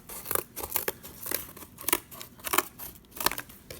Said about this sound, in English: I'll just cut some curves in it maybe.